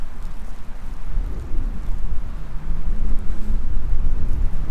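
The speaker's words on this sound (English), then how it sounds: "Sure is windy today too." Strong wind blowing across an open campground area at Father Hennepin State Park in Minnesota, a deep continuous rumble with gusts buffeting the microphone, swelling louder toward the end.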